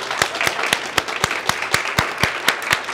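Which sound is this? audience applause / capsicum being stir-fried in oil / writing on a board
audience applause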